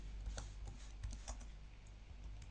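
Quiet typing on a computer keyboard, a few soft irregular key clicks close by over a low steady background hum, with no voices.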